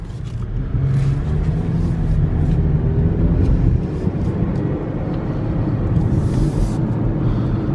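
A 2016 Chevy Malibu, a salvage repairable car with about 2k miles, drives along with a steady low engine and road rumble that stays even and close throughout, no voices heard.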